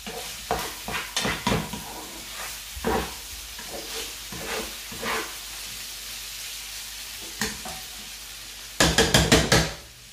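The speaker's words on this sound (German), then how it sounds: "Ihr wisst ja, Salsa muss immer angebraten werden." Salsa frying in an oiled pan, with a soft sizzle beneath repeated stirring and scraping knocks, ending in a quick burst of louder clatter.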